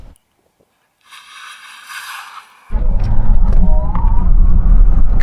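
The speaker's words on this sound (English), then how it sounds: "So let's see how quick this Lucid is without 1 foot rollout." A Lucid Air electric car launches hard from a standstill, a quiet whine giving way to a loud, steady roar of tyre and road noise and rushing air that builds and holds close up.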